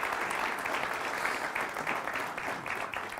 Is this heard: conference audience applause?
yes